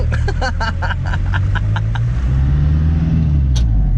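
A 1997 Land Rover Defender with the 300 TDI diesel and manual gearbox pulls away in first gear, a loud low engine drone rising in pitch, with a few rattling clicks early and a brief high squeak near the end.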